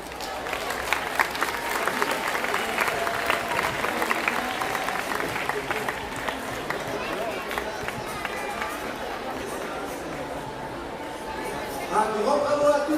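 Audience clapping at a youth gymnastics results ceremony, sustained applause with crowd chatter throughout and a louder swell near the end.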